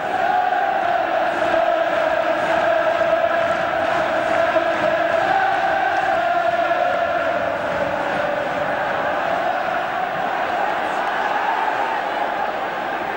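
A home crowd roars loudly and continuously at the Everton v Bayern Munich Cup Winners' Cup semi-final at Everton's ground in 1985, with a commentator speaking over the din.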